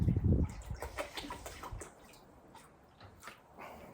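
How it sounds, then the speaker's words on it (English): Distilled water pours into a 4-cup container with a short gush at the start, then softer splashing and trickling, faint and close. "3 cups into this 4-cup container"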